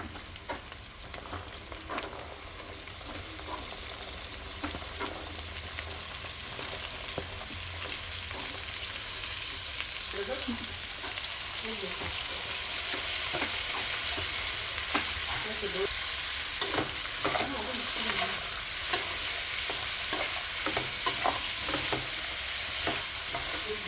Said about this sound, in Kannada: ಎಣ್ಣೆಯಲ್ಲಿ ಚೆನ್ನಾಗಿ ಫ್ರೈ ಆಗಲಿ ಎಲ್ಲ ತರಕಾರಿಗಳು